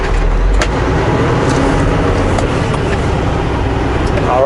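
A car drives past on a rain-soaked road, loud broadband tire hiss and engine rumble filling the clip steadily from close by.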